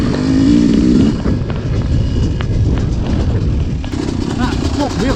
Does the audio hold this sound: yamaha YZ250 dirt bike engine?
yes